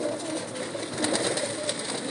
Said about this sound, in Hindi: ये कबूतरी भी दोस्तों मेरी बड़े जोड़ों की कबूतरी है